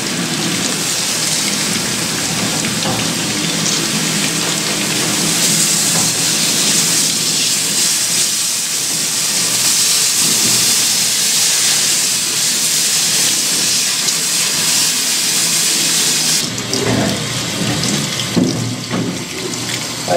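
Hot freshly poured metal casting is plunged into a water bucket, giving a long, loud, steady rushing hiss of steam and bubbling water that cuts off abruptly near the end, followed by quieter splashing.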